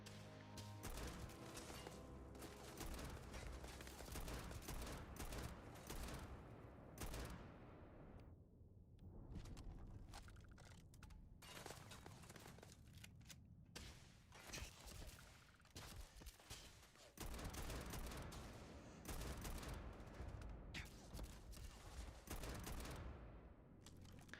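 The AA50 Long Watch rifle in Starfield fires automatically with a true select-fire mod: dense, rapid bursts of shots run nearly continuously, broken by a few short pauses, all at a low overall level.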